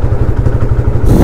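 A TVS Apache 160 motorcycle engine is heard close and loud as the rider shifts into fourth gear, giving a rapid thumping, clattering pulse that surges near the end.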